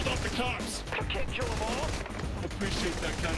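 Gunfire from the video game Saints Row: The Third Remastered, with dense bursts of shots packed into a loud, busy stretch of game noise.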